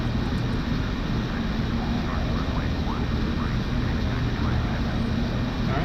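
Engines of a North American XB-70 bomber taxiing in a flight simulator game, a loud continuous roar and whine holding steady throughout.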